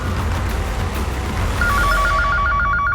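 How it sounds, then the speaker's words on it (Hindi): A telephone rings with a repeated electronic trill, loud and close, over a steady background hum, with the ringing pulses settling into a regular rhythm in the second half. "तुम फोन उठाओ प्लीज"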